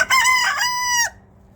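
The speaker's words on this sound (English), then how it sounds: "Yes, they're your chickens" A rooster among backyard chickens gives one loud, close crow lasting about a second, then falls quiet, with no talking.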